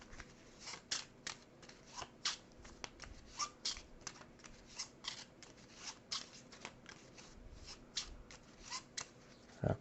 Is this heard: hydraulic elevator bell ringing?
no